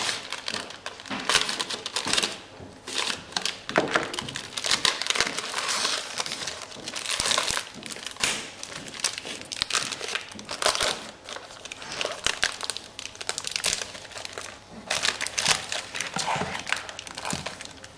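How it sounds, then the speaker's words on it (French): A knife chops through a bar of chocolate on a board in dense, irregular crisp cracks and crunchy snaps over about eighteen seconds, close and fairly loud, with no talking. "couper et peser son chocolat"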